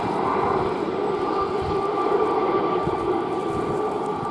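A formation of naval helicopters at a Shuttleworth Fly Navy air display, led by a Gazelle, passes with a steady rumbling rotor and engine drone that holds loud and even throughout.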